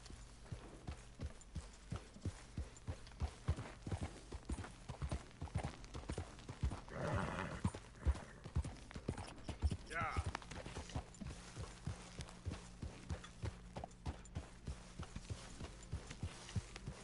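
Horse hooves clip-clopping in Red Dead Redemption 2, a steady walking rhythm of close, distinct hoof beats continuing throughout, with a brief whinny-like burst midway and voices talking over it.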